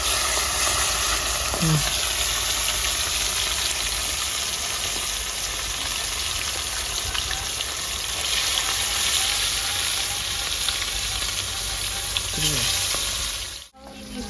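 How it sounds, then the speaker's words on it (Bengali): Pieces of large rohu fish frying in hot oil, a loud, continuous sizzle and crackle that runs almost unbroken before briefly dropping out near the end. "মাছ ভাজা হয়ে গেছে"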